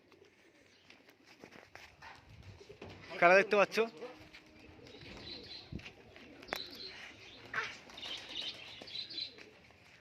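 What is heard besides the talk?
Giribaz pigeons released and flying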